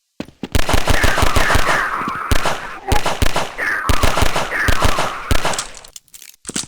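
Rapid bursts of video-game gunfire from a Half-Life platformer, the Half-Life 2 firing effect repeated in loud, sharp volleys with brief pauses between strings of shots, close and dominant.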